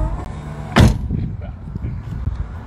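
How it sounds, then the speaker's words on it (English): A car door closes by itself at the push of a button, a single loud thud with a brief rumble near the start, followed by low background noise and faint talk. "you press the button to close the door"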